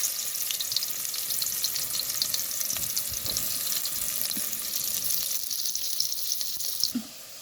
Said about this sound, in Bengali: পেঁয়াজ কুচি দিচ্ছি।